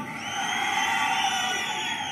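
Rally crowd at a BJP public meeting in Kurnool, Andhra Pradesh, roaring steadily with cheers and applause, a dense sustained wash of many voices with no single voice standing out.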